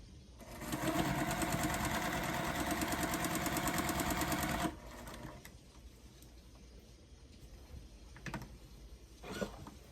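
A home sewing machine stitches quilting fabric corner to corner for a holiday sampler star block, a steady fast whirring run of about four seconds that stops abruptly, leaving faint handling noises.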